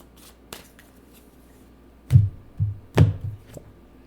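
A deck of tarot cards is shuffled, with a few soft flicks followed by several muffled thumps and riffling taps as the cards are knocked together, close and fairly quiet with no talk.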